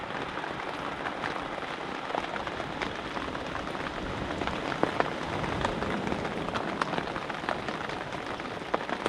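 Steady rain patters on a surface on a shoreline during a storm, a dense hiss dotted with sharper individual drops, continuous and even throughout.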